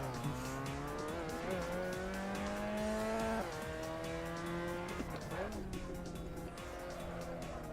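A racing game car's engine revs steadily through the gears, then tires squeal and scrub as it understeers and slides into a wall, with the engine note dropping under a commentator's voice.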